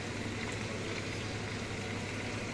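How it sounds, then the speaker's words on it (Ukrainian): Lamb meat frying in a pan, giving a steady, dense, close sizzle that holds evenly throughout. "Поджарюємо м'ясо."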